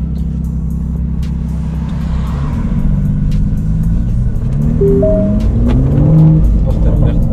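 An Aston Martin DBS Superleggera engine gives a deep, steady rumble near the microphone, swelling and climbing in pitch in its second half. Voices talk over it.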